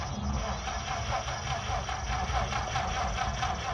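An Oldsmobile Six engine is cranked over and catches after a warm restart, giving a steady, close mechanical chugging and running drone for several seconds.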